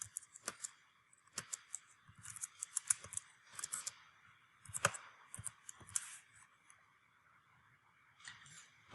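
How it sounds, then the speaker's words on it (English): Computer keyboard typing in irregular bursts of sharp clicky keystrokes, close and fairly quiet, with short pauses between runs of keys. "So we'll type that in here."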